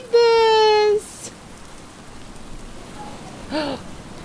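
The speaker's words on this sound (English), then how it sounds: "We've been waiting forever for this rain." Rain falls in the survival video game Stranded Deep, a soft steady hiss of drops behind a brief tonal game sound at the start and another short burst near the end.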